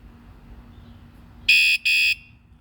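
A moped security alarm from a WSDCam install gives two loud, shrill electronic beeps in quick succession, close by over a faint background hum.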